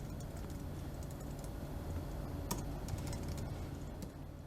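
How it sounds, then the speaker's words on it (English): Steady typing on a computer keyboard, a continuous stream of close, quiet key clicks with a few sharper taps and no voices. "I'm just typing that text."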